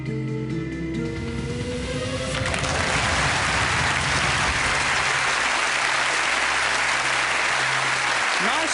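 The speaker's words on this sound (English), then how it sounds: "Nice applause to start with." Audience applause opening a close-up magic show at a bar, a dense, loud wash of clapping that swells in over music and carries on steadily.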